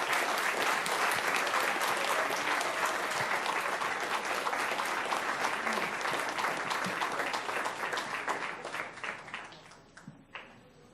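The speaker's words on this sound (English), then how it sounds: "Let's give them all a big round of applause." A school audience gives a big round of applause for fifth graders and their teachers, dense, loud clapping that holds steady and then thins out into a few scattered claps near the end.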